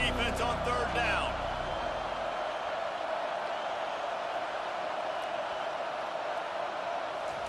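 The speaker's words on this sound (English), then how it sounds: "Decibels rising as the crowd gets behind this defense on third down." Stadium crowd in a Georgia vs Auburn college football video game on a third down. A voice comes in briefly at the start, then a loud, steady crowd roar swells and holds, dense and continuous.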